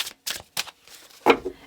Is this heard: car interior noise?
no